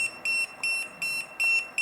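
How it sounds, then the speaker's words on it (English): A wireless restaurant queue pager beeps a shrill, high electronic tone in five short, loud bursts, each about a fifth of a second long with brief gaps between them. "how to turn off the pager beep"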